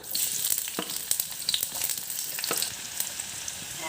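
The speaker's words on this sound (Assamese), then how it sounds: "পিঁয়াজ দি দিছোঁ," Sliced onions fry in hot oil in a home kitchen at the start of an Assamese okra fry, a close, steady sizzle broken by a few sharp stirring clicks, with no talk.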